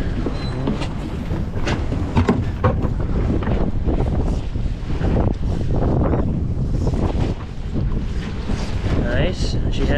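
Gusty wind buffets the microphone in heavy, uneven bursts, roaring over water noise with occasional voices underneath, while Dungeness crab fishing in the Pacific Northwest.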